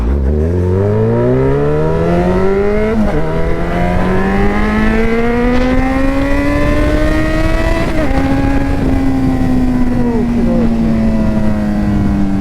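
A Yamaha MT-09 motorcycle engine accelerates through the gears while riding in London, loud and close, its rising drone broken by brief shift dips as revs climb again, with wind noise underneath.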